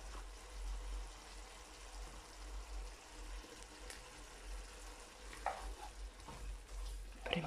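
Anchovies and capers sizzle in a pan and are stirred, a steady close frying hiss with a low hum under it and a few scraping spoon clatters near the end.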